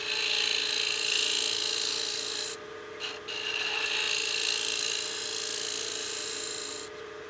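A skew chisel cuts a wooden utility box on a lathe as a concave radius foot is shaped, giving a steady, close rasping scrape that runs almost without a break and dips briefly twice midway.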